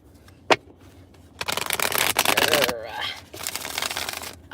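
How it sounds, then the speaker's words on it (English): A deck of tarot cards is shuffled in long riffling bursts, near and loud, with a sharp tap before and a short pause between the two rasping runs. "I'm gonna shuffle these cards up, then we're gonna get right into it."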